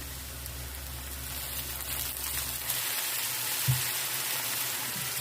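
Carrots and peppers for buckwheat soup frying in a pan, a steady loud hiss and crackle throughout, with a brief stirring knock partway through and no talking.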